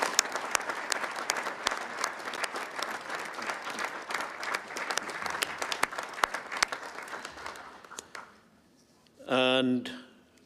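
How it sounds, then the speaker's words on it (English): An audience at an international ski congress in Reykjavik claps in sustained, even applause for several seconds, then the clapping fades out and a single voice speaks briefly. "give a member of the FIS staff, all the members, and of course also Michelle, a big round of applause"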